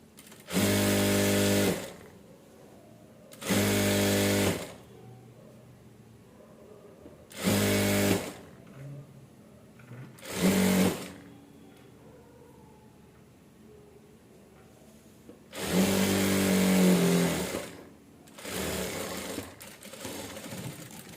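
Bursts of a sewing machine stitching petticoat pieces, several separate runs of fast mechanical whirring, some long and some short, separated by quiet pauses, close and loud.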